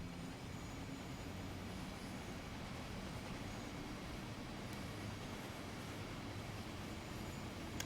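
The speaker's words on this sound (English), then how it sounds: "That's a train." A steady rumbling roar of a train passing on the Bakerloo Line in Train Sim World 4, a dense, constant rolling noise with no talk over it.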